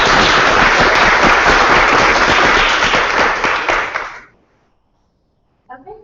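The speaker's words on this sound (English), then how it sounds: "Let's give a round of applause." Loud, dense audience applause at a student association meeting holds steady for about four seconds, then fades abruptly into silence before a brief sound returns at the end.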